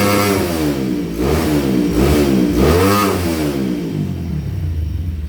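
Honda Tiger motorcycle with a stroked-up engine and modified exhaust revving loudly up and down close by, several rising and falling blips over a steady idle, no talk.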